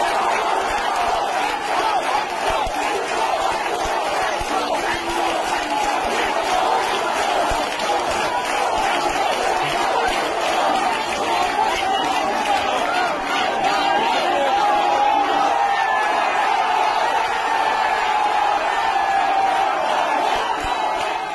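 Protesters chanting "go back" slogans at National Medical College, a dense crowd roar of many voices holding steady and loud throughout, with shouted calls rising over the mass.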